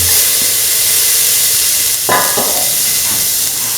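Green chillies hit a hot pan for a coconut-milk kidney bean and green pea stew, giving a loud, steady hiss of frying with a brief clatter of stirring partway through.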